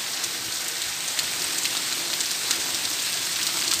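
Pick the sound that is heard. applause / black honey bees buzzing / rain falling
rain falling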